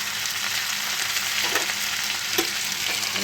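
Chowmein fries in a pan with a loud, steady sizzle, and occasional stirring scrapes and clinks rise above the constant hiss.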